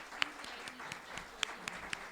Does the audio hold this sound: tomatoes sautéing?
no